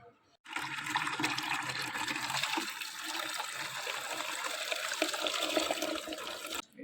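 Water gushes steadily into a container, filling it for watering potted plants in a rooftop garden, a loud, continuous close rush that runs for several seconds and cuts off abruptly.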